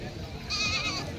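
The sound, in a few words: goats bleating at a goat market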